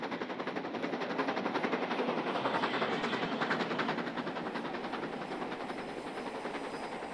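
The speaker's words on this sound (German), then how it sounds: "Ah, diese Aufnahme mit der Lok, der Sound." Northern Belle locomotive in the Train Simulator Classic game chugs steadily with a fast, even mechanical beat and broad rumbling hiss, loud and continuous throughout without any talk.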